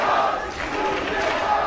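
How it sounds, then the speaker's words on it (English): A big studio crowd at an LCS EU League of Legends match roars and cheers steadily, a dense wash of voices holding at full volume throughout with a brief dip midway. "A lot of people here make a lot of noise."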